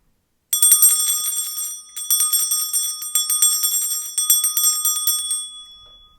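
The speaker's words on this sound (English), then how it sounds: "So first, I'm going to clear the energy with my bell." A small handheld bell rung to clear energy before a spiritual reading chimes bright and close in three quick clusters of ringing strikes, each left to shimmer briefly, with no talking.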